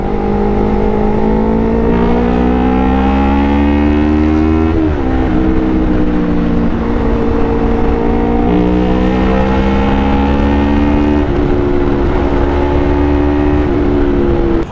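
A Yamaha R3 Limited Edition motorcycle fitted with an Akrapovic exhaust revs loudly and continuously, its engine note climbing and falling through repeated high-RPM pulls, close and steady with no talking.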